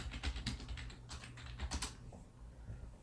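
Rapid, uneven clicking of keys on a computer keyboard, close and fairly quiet, with bursts of keystrokes and short pauses between them.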